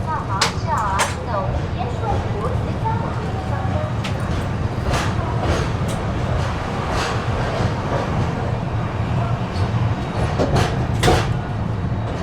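The Karnataka Sampark Kranti, an ICF-coach express, pulls out of a station with a low steady rumble, occasional sharp clanks and clicks, and voices talking in the background.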